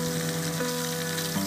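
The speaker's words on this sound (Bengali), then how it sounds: "মাথাটা আমি ভালো করে লাল করে ভেজে নেব এপিট ওপিট করে।" Hilsa fish head seasoned with salt and turmeric frying in hot oil, a steady close hiss and crackle of sizzling with faint tonal hum underneath, no talking.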